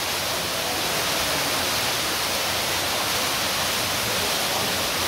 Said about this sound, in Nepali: खोला खोलाहरू यहाँ बगिराखेको छन्